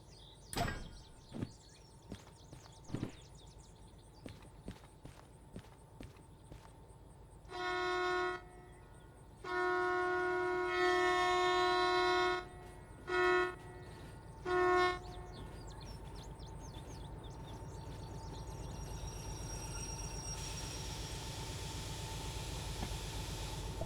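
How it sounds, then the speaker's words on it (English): Derail Valley train approaching in the game, with several sustained horn blasts in the middle of the clip after scattered clanks, then a rising rumble that grows steadily louder toward the end. "Gotta be mindful of the incoming train."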